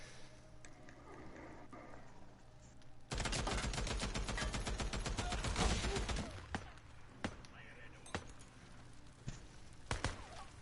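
Sniper gunfire in the video game Days Gone, heard as a dense, loud burst of rapid shots lasting about three seconds, followed by scattered single cracks and impacts, with a voice talking at times.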